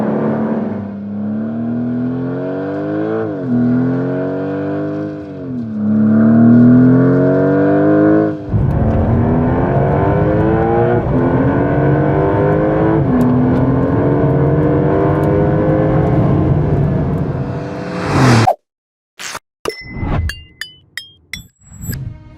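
A 2026 Porsche 911 Turbo S hybrid accelerating hard, its engine note climbing through several gear changes in loud rising sweeps, followed by an abrupt cutoff and a few sharp clinks.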